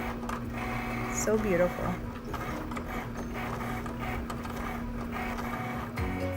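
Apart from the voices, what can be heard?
Cricut machine cutting out a word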